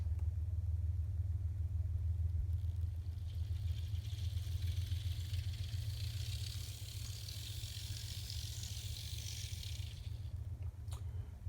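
An N scale Life-Like SW1200 model locomotive runs steadily, its small motor giving a continuous low hum under a soft mechanical whir that stays even throughout, with no talking.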